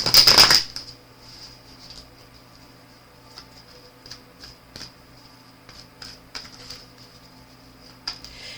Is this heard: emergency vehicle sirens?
no